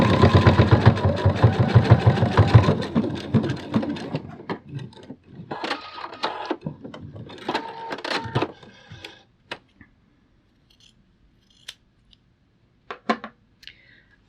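A sewing machine stitches fabric for a bat costume in a dense whirring run, then shorter bursts of stitching with pauses, close and fairly loud, before trailing off into near silence with a few faint clicks.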